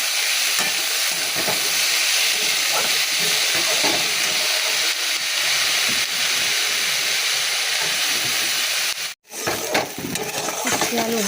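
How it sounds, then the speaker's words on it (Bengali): Sliced bitter gourd fries in oil with turmeric, salt and ginger, giving a continuous loud close sizzle and hiss with occasional stirring scrapes and one brief dropout near the end. "আর তেল দিয়ে উচ্ছেটা ভাজা বসিয়েছি"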